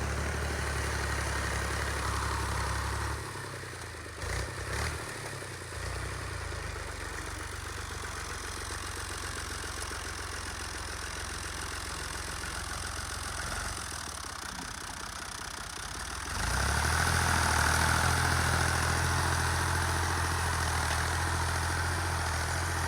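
A tractor engine idles with a steady low rumble and vibration, growing louder and rougher near the end as it revs up.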